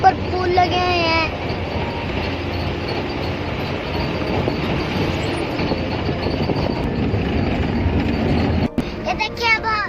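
A train rumbles steadily past near a railway station for nearly the whole stretch, a broad continuous roar with faint wheel clatter, ending in a sudden break and brief tonal sounds; a voice talks faintly underneath.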